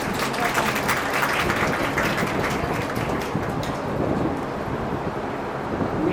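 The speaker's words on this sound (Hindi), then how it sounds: "तालियां बेटा।" Students and guests applaud a student at a results ceremony at a government girls' senior secondary school in Firozpur Jhirka. A thick, crackling wash of claps rolls on, then slowly thins and softens toward the end.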